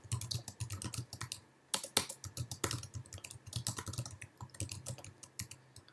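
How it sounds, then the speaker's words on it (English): Steady typing on a computer keyboard, rapid uneven key clicks running almost continuously for several seconds with one brief pause, close and clear with no voices. "Now what I'm typing in is called the WYSIWYG editor"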